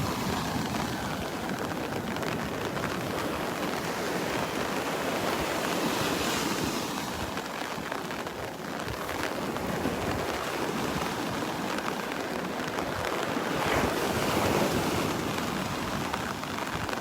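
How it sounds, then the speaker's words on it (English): Wind and surf on Vanderbilt Beach in Naples, Florida, during Tropical Storm Elsa make a steady, dense roar of waves and gusts buffeting the microphone, continuous and loud with no voices. "Fighting the wind, the breeze."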